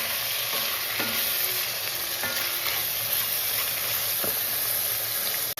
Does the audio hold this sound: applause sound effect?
no